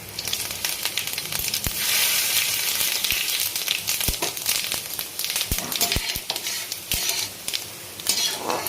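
Dried chilli, bay leaf, cinnamon and cardamom fry in oil with a loud, close sizzle, broken by many sharp clinks and scrapes of a spoon against the pan.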